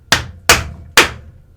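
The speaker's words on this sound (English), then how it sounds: "So now what you gotta do is just use your hammer," Three sharp hammer blows tapping out a SRAM X01 bike crank, evenly spaced and loud, each a crisp metallic strike with a short ringing decay, up close with no talking.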